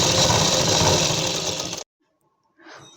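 An electric sewing machine runs steadily stitching Afghani palazzo fabric, a loud continuous whirring that stops abruptly, leaving silence before a faint rustle of handling.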